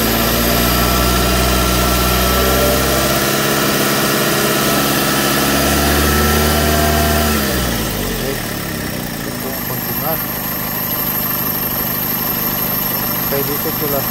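A car engine runs loud and close during a charging-system battery test, holding a steady idle before the revs drop and the tone shifts; no voices accompany it.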